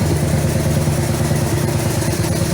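A 1985 Yamaha Venture Royale motorcycle engine idles steadily at about 1,000 RPM, a loud, close, continuous mechanical drone with faint clatter running the whole time and no voices.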